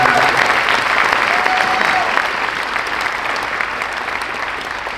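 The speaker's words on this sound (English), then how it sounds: "I'd like us to give a round of applause for all the members of that team that helped us out" An audience at a senior awards night applauds the event team with loud, sustained clapping from a full crowd that keeps an even roar and eases slightly toward the end.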